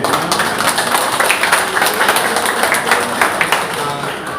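Audience applause for a community group at a bank outreach gathering, dense steady clapping from many hands, loud and continuous.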